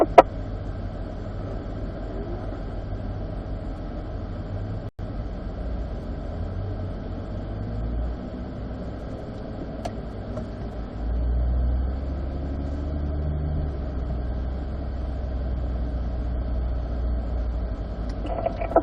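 A car on an autocross run, heard as a steady low engine rumble from inside the cabin with a heavier surge of engine drone midway, no talk.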